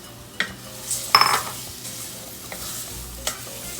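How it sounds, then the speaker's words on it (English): Black lentils stirred in a hot pan with raisins, a soft sizzle under a few spoon scrapes and light knocks against the pan, close and brief. "We're basically just going to stir them for like 30 seconds."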